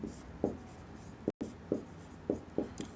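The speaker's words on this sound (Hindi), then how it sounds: "आइए लिख लेते हैं" Notes for a class 12 physics lesson on light refraction are written by hand, with short scratchy pen strokes arriving in separate bursts against a quiet room.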